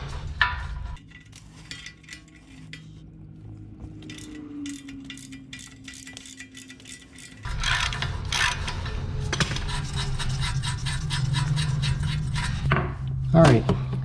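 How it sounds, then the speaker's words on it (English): Rapid ratcheting from a 19 millimeter socket wrench loosening a control arm nut on a Kia Optima, bursts of fast metallic clicks that grow louder and steadier partway through, heard close with clanking near the end. "we can remove the nut with a 19 millimeter socket."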